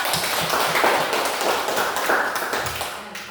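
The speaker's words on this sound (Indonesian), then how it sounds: "tepuk tangan untuk kelompok 2." A class of students in a religion lesson claps for a group of classmates, a loud, close burst of uneven hand claps and taps that fades slightly at the end.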